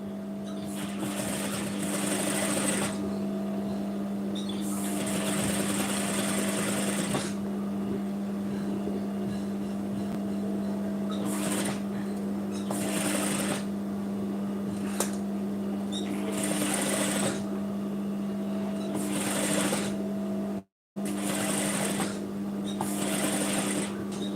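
A sewing machine stitches along the front neckline of a sleeveless round-neck blouse, running in several steady bursts with short pauses between them, close and clear.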